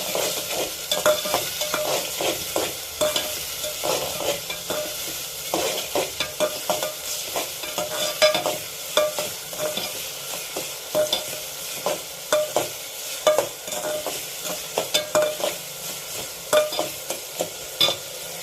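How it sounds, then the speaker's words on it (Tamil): Sliced onions sautéing in a pan for Narai fish gravy, with a constant sizzle under repeated rhythmic stirring scrapes, close and clear, with no talking. "வெங்காயம் வதக்கும் போது வெங்காயம் சீக்கிரம் வதங்கிடும்"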